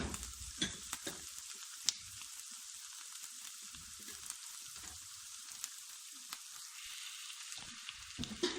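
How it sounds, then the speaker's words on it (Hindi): Garlic and green chilies fry in a pan with a soft, steady sizzle, punctuated by occasional light clicks and stirring scrapes, quiet and close with no talking. "लहसुन, सब्ज़ मिर्चें हमने डाल दी।"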